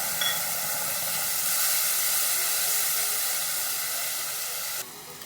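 Grated tomatoes go into a hot tempering for a Bengali potol curry and give off a loud, steady hiss that fades a little and then drops off sharply near the end. No one speaks.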